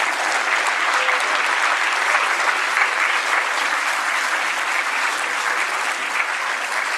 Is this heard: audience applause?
yes